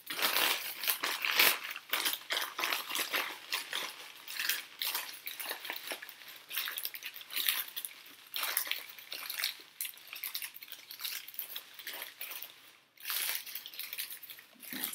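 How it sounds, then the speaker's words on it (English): Paper is rolled and crumpled by hand during floor art, giving a close, continuous crinkling and rustling that rises and falls for about fifteen seconds with no talking. "So now I think I'm going to take my paper and kind of roll it."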